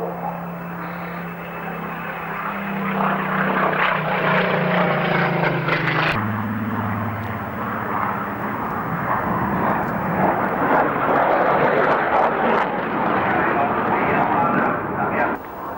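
A Spitfire Mark 19 propeller fighter flies at the 1992 Farnborough Air Show, its engine drone loud and sustained and shifting in pitch as it passes, under a commentator's voice.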